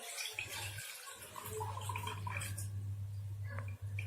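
Soaking water is drained off whole mung beans soaked overnight, making a faint trickle and splash of poured water over a low electrical hum, with brief soft clinks.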